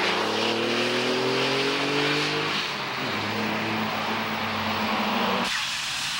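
Racing cars including a Nissan GT-R and a Porsche accelerate hard on a circuit in a 1992 battle, engines droning loud and close with rising harmonic tones, one car's pitch falling away before the sound cuts to a quieter passage.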